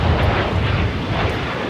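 Jet airliner taking off at Los Angeles International Airport, a steady loud engine roar that holds evenly without a break, heard alone.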